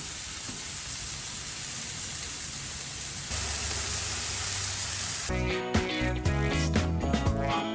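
Frozen hamburger patties sizzling in oil on a Blackstone griddle at medium-high heat, a steady hiss that swells louder partway through, then gives way to clattering and tonal sounds near the end.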